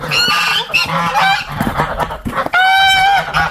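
Geese honk loudly and repeatedly close by in a village farmyard, several birds calling over one another in harsh, overlapping bursts.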